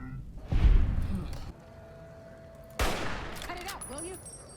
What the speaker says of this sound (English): we're shooting